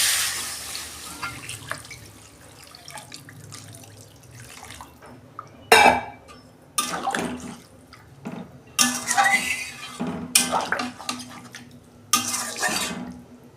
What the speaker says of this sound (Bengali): আমি পরিমাণ মতো জল দেবো।